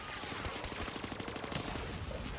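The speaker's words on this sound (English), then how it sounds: "let me see how this gun actually works. So you shoot" Rapid automatic gunfire from a weapon in the Origins zombies mode of a video game, a fast, evenly spaced stream of close shots forming a rattling burst for about two seconds.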